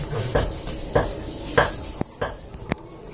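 A wrench works the tappet valve adjuster on a TVS Flame motorcycle engine, giving a series of close metallic clicks and scrapes at a steady, ratcheting rhythm, about six strokes in three seconds.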